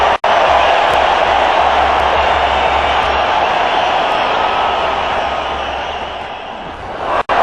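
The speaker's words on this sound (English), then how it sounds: "the crowd has gone berserk here" A large stadium crowd roars in a sustained, loud wall of cheering at the 2003 Cricket World Cup final between India and Australia, many Indian supporters among them, the noise steady throughout and easing slightly toward the end.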